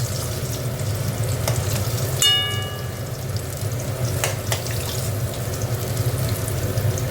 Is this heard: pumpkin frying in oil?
yes